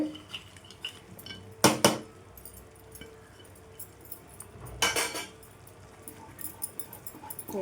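A spoon stirs thick moong dal halwa with dry fruits in a pan. It gives two loud bursts of scraping and clattering against the metal, with quieter scrapes and soft knocks between them, and no speech.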